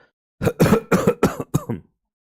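A burst of five rapid, harsh coughs close up, one after another, then silence.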